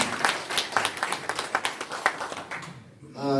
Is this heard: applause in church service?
yes